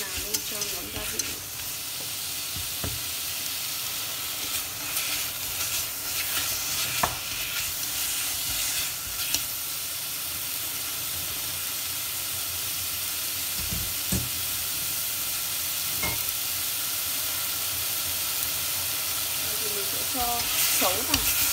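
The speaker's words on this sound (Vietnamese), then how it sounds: "Mình sẽ xào lên cho ngấm gia vị." Pork belly is stir-fried in a pan while cooking eggplant, a continuous steady sizzle with occasional scraping and stirring clicks, close and moderately loud throughout, with no clear talk.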